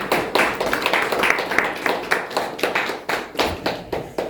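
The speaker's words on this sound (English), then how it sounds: "Can we have a round of applause?" A small group in a room applauds at a book inauguration event, with distinct, close individual claps arriving in an uneven rhythm rather than a dense wash.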